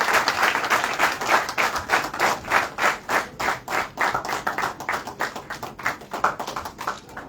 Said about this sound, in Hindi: आपकी तालियां रुकनी नहीं चाहिए।